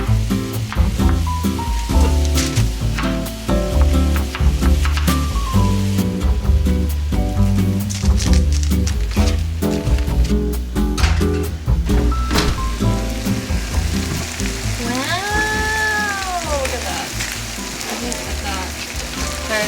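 Chicken breast strips frying in a pan give a steady, close hiss of sizzling that runs throughout, partly under background music.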